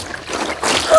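A brief, close splash of water hits a block of ice during an ice-breaking challenge, a short burst of wet spattering lasting about a second.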